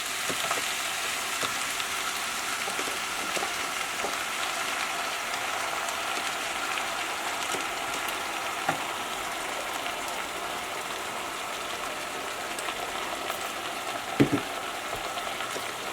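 Shrimp sizzling steadily in a hot pan, a continuous close frying hiss with faint occasional pops and a small clunk near the end.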